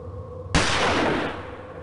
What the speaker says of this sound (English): The gunshot seems to have frightened him off.